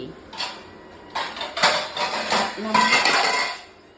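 Dishes and cutlery clatter and clink in several quick bursts as they are handled nearby.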